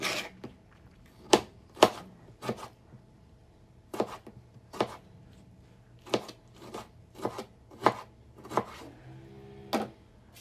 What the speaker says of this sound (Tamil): ஒரே ஒரு தக்காளி எடுத்து அதையும் நம்ம ஒரு பொடிசாக சிறுசாக நம்ம வெட்டி ஒரு பவுலில் வச்சுக்கலாம்.